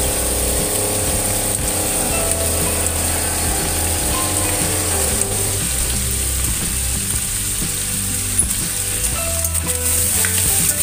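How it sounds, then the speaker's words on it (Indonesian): Potatoes and carrots are stir-fried with spices in a pan for a simple gizzard stir-fry. A loud, steady sizzle runs throughout, with scraping and clattering from the stirring and no voices. "Lalu ditumis-tumis sampai harum ya"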